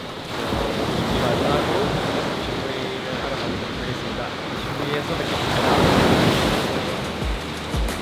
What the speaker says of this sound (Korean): 파도가 점점 세지고 있습니다.